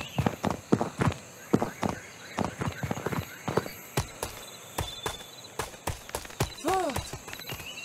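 Horse hooves clip-clop in the video game Miraibo Go, a quick run of sharp, close hoofbeats followed by scattered steps and a short whinny, with no voices.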